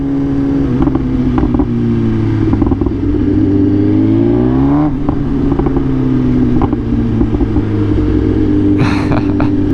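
BMW S1000RR sport bike fitted with a loud custom SC slip-on exhaust, revving steadily and close, with a rising and falling rev sweep near the middle and a brief sharp burst of higher noise near the end.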